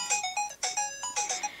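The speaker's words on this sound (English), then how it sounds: "And there goes me timer, which is awfully loud." A loud timer ringtone goes off, a quick melodic pattern of bright electronic notes repeating several times in a short burst.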